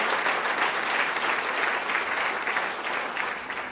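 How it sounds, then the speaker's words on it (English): Audience applause after an introduction of New York's Lieutenant Governor Bob Duffy at a state wine campaign event, a dense, steady wash of many hands clapping continuously at full volume with no pause. "Let's give Lieutenant Governor Bob Duffy a big round of applause"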